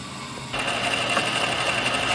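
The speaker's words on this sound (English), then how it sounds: "Now we'll touch it up with Mr. Grinder." An angle grinder smooths a scratch-built steel tailgate hinge for a 1927 Ford, starting with a sudden loud whine that holds steady and close throughout.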